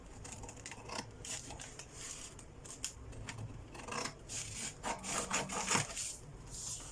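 Scissors cut out fabric for a yoke blouse, making a close, quiet run of irregular snipping and rustling strokes, steady throughout with no talk.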